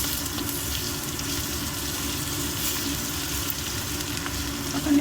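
Ginger garlic paste frying in hot oil for a brinjal curry, a steady close sizzle with a faint underlying crackle and a slightly bubbling, watery texture, no voices.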